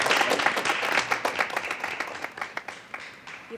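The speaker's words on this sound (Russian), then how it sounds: "Браво. Аплодируем стоя." Audience applause for the president in a Ukrainian political comedy setting, a dense burst of clapping that thins into scattered individual claps as it fades over a few seconds.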